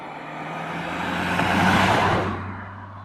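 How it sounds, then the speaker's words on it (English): A road vehicle sweeps past nearby: a broadband engine and tyre rush that builds, peaks around the middle and fades away, with a steady low hum underneath and no talking. "Just waiting for the traffic to go by."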